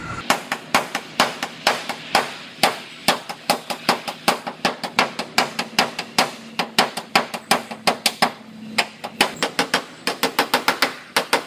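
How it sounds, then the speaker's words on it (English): A bent hood on an old Toyota being hammered straight, a long run of sharp, ringing metallic blows at a steady, quickening rhythm, loud and close with no talk. "So I'm gonna straighten this out, get the hood straightened out so I can fit the headlight up"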